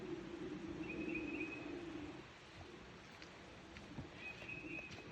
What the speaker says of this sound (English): We have some pretty birds singing for us too.